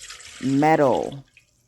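Water pours into a metal container, the pitch rising and ringing as it fills for about a second, close and fairly loud.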